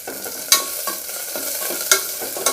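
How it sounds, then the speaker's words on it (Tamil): Asafoetida and green chillies sauté in oil with a dense, continuous sizzle. A few crisp scrapes from a stirring spoon stand out near the start and toward the end. "பெருங்காயம் போட்டுக்கோங்க"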